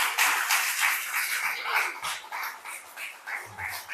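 A small church congregation claps together at a Sunday service, a steady dense round of applause lasting a few seconds, close and fairly loud, tapering slightly at the end.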